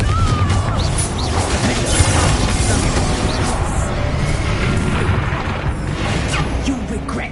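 A Confringo blasting spell bursts in Hogwarts Legacy, a loud crashing impact with crackling debris over dense game noise, and a voice speaks around it.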